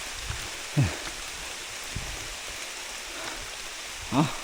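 Heavy rain pours steadily through a forest as a dense, continuous hiss, with a few brief voice-like sounds poking out faintly above the downpour.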